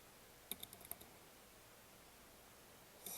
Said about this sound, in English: we're going to type in Georgia Milestones